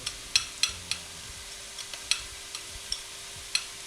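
A ladle spoons chicken broth onto onions cooking in a pot, giving sharp metallic clinks and splashes at an irregular rhythm over a faint, steady sizzle.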